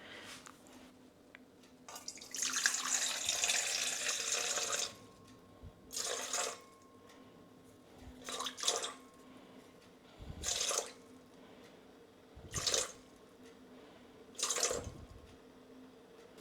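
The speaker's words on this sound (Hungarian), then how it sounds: "Aztán jöhet a víz, amiből 293 kell nekünk." Filtered water poured and splashed into a container while mixing homemade dish soap with lye: a long steady pour of several seconds, then five short separate splashy bursts, close and clear, with no talking.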